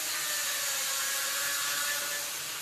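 A sanding disc grinds steadily across a weld on a steel chiminea, a continuous harsh abrasive hiss, fairly faint and unbroken, with no voices.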